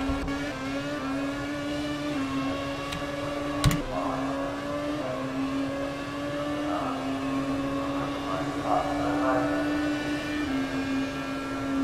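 Racing cars in CRC Italy free practice run past on a circuit, a steady sustained engine drone with a sharp brief transient near the middle and slight swells as cars pass, heard alone.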